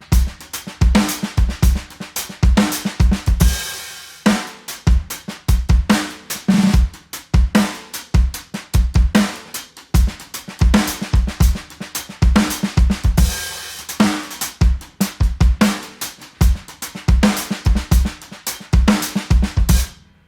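Rapid drum fill in sextuplets on an acoustic drum kit, dense rolling hits moving across drums and cymbals with crashes scattered through it, loud and close for about twenty seconds with no talking.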